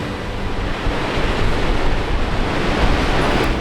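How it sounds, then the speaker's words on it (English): A steady, roaring rush of falling water from a large Alpine waterfall, dense and continuous broadband noise without pauses or voices. "Or these mighty waterfalls."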